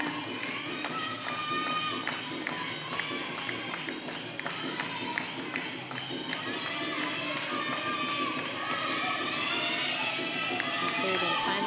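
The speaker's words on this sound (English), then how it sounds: "You can see the crowd's getting into it, doing some clapping" Spectators clap at a high school gymnastics meet in a gym, scattered claps mixed with steady crowd noise and background music, with some voices in the mix.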